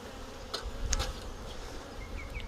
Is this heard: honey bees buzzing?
yes